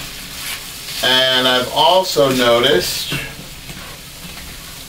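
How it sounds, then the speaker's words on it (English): Zucchini fries in a pan with a steady, close sizzle, partly covered by a person talking over it. "I'm going to put the zucchini in here and then have that kind of fried up as well"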